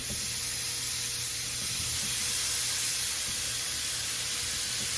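Meat sizzles in a hot skillet after the vegetables have been removed, producing a steady, even hiss of frying that holds fairly constant throughout with no voices.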